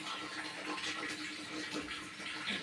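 Milk bottle washed with warm water at a sink indoors, a continuous close splashing and trickling stream with no talk.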